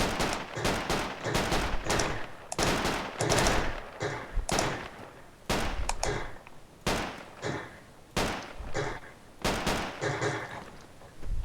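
Dense bursts of gunfire in a cooperative military shooter game, rapid volleys and single shots clustered in loud, sharp waves, close and continuous with little pause.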